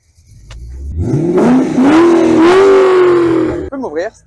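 A 2006 Ford Mustang revs hard while spinning a donut, its engine note climbing and holding loud for a few seconds with a faint tyre squeal, then cutting off abruptly as a voice speaks briefly.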